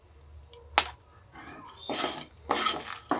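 A metal spoon scrapes and clinks against a cooking pan while spices and ground coriander are stirred, a few irregular taps and rattling scrapes at close range.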